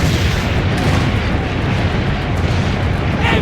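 Cannon fire in the video game Assassin's Creed Brotherhood, a dense rumbling boom with heavy low-end blast noise held over several seconds and a brief voice near the end.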